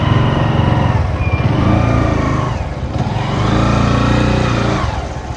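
A motorcycle engine revs loud and close as the bike pulls away on a traffic-filled street in Pokhara, its note rising and dipping with the throttle across a few seconds, with no talking.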